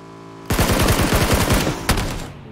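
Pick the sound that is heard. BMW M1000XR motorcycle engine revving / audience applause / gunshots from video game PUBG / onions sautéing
gunshots from video game PUBG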